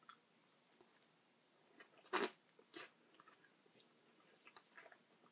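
A single soft bite into a mikan daifuku, a mochi rice cake filled with white bean paste and a whole mandarin orange, heard up close as one brief burst followed by faint chewing sounds in a quiet room.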